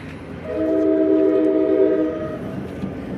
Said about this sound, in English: these are all New Jersey transit trains now